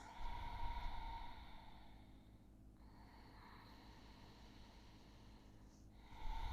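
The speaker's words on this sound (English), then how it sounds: "You'll hear that whispering sound, that's Ujjayi breath" Soft, airy Ujjayi yoga breathing in a seated practice, a steady whispering hiss of slow inhales and exhales, fairly close and quiet, with a louder breath rising at the end.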